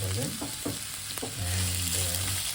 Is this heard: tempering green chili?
yes